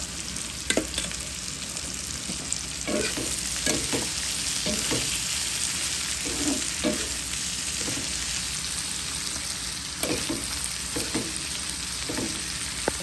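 Raw okra fries in a pan with oil for a simple Bengali bhaji, giving a loud, continuous sizzle broken by repeated stirring scrapes and clicks.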